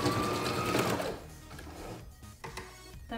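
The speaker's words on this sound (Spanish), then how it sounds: "Yo voy a pasar un pespunte hasta la orilla para que me quede más marcada lo que es la pretina." A sewing machine runs a topstitch along the edge of an apron waistband in a fast, loud mechanical whir, then slows and stops, followed by a few light clicks and handling sounds.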